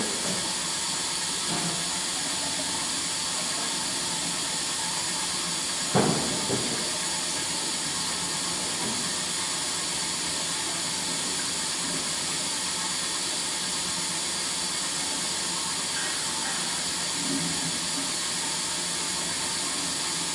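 Semitool 870-S spin rinse dryer running with a steady, dense hiss and hum throughout, a few faint clicks and one brief clunk partway through, no voices.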